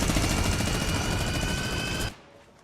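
Sustained minigun fire in the Fortnite video game, a loud continuous whirring burst of rapid shots that runs for about two seconds and then cuts off abruptly into quiet.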